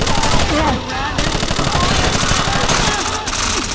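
Sustained automatic gunfire in the tactical shooter Rainbow Six Vegas 2, loud rapid bursts of shots and incoming fire filling the scene continuously.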